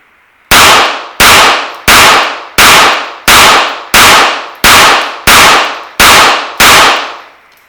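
A GSG 1911 pistol fired ten times in a steady, evenly spaced string, each shot a very loud, sharp crack with a short ringing tail, close and with no talking.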